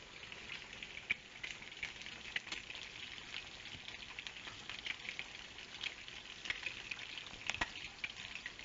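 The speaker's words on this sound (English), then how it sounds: "I got the chicken cooking over here and the pasta boiling" Quiet, steady sizzling of chicken frying in a pan, with soft crackles and pops scattered throughout and no talking.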